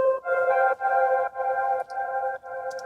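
A twinkly 1980s-style synth keyboard in a song, with a tone like one from Super Mario Galaxy, plays bright sustained chords that pulse in short, evenly spaced swells and carry on alone without any voice.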